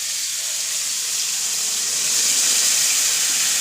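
Water poured into a hot cooking pan while making semolina upma, a steady loud hissing sizzle that swells slightly toward the end, with no talking.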